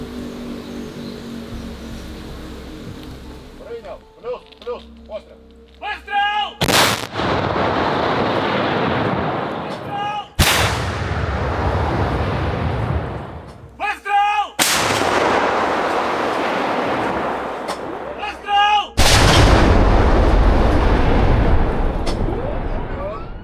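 Several massive Ukrainian tank cannon blasts boom at irregular intervals in a forest, each a sharp crack followed by a long rumbling roar, with mechanical noise and faint voices between shots.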